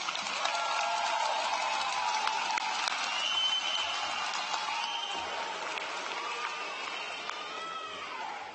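Sustained audience applause at a high school graduation ceremony, a dense wash of many hands clapping at a steady level across the hall, heard from some distance.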